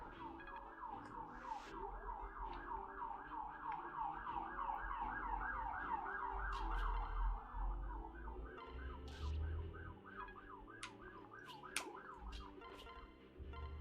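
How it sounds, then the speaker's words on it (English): Emergency sirens wail outdoors, steady rising and falling tones running through most of the stretch at moderate distance, with low traffic rumble underneath and no talking. "Beautiful sirens outside, doing their siren things."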